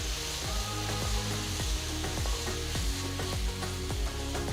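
Ginger garlic paste being stirred into a frying mutton biryani base, steady sizzling with repeated scraping clicks of a spoon against the pan, close and alone.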